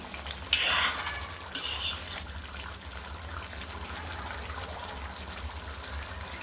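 Tomato egg curry with curry leaves stirred in a pan, a couple of sharp metallic spoon scrapes followed by a low steady simmering sizzle.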